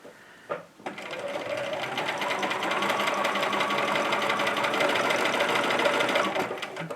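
A sewing machine runs a steady, continuous stitching line across fabric with elastic pulled straight, starting after a couple of brief handling clicks and holding a close, even mechanical whir throughout.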